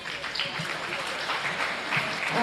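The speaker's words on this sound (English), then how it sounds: "let's give these four individuals a big round of applause" A crowd applauds at a county fair goat show, the clapping soft and somewhat distant, steady across the moment with a little murmur mixed in.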